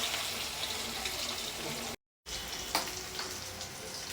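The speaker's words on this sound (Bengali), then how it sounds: "তেল গরম হয়ে গেছে, মাছ দিয়ে দিলাম।" Fish frying in hot oil gives a steady, crackling sizzle, fairly close and even, with a brief break in the middle and a few sharper pops and spatters afterward.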